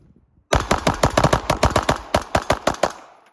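A machine gun that has fired over 2,000 rounds in an accuracy test and is running hot lets off a rapid burst of about twenty close, loud shots after a short pause, the rhythm slightly uneven before fading.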